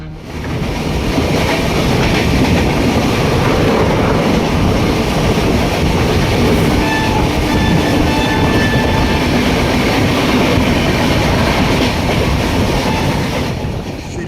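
A New Delhi-Pathankot Superfast Express train runs steadily after leaving Panipat, with a loud, continuous rumble of wheels and carriages and a faint rhythmic clatter heard from on board, no voices.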